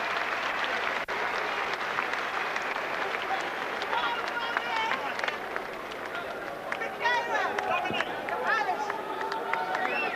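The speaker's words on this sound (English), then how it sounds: "A round of applause for the game challenge of Jose Badillo" A boxing arena crowd applauds steadily after a WBO featherweight title fight, dense clapping and cheering with an announcer's voice running over it.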